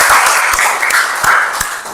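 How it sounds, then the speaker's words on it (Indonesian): Brief round of audience applause at an academic teaching session, a dense wash of many hands clapping steadily at moderate loudness for about two seconds, with no speech over it. "terima kasih, tepuk tangan buat kita semua"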